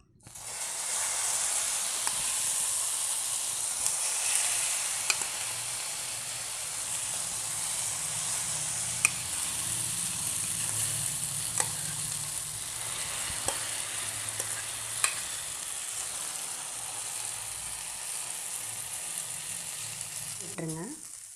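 Beaten eggs poured into hot oil in a pan on a low flame for a simple egg and potato breakfast fry with a continuous, even sizzle and hiss, punctuated by occasional faint spatters and pops, close and steady throughout.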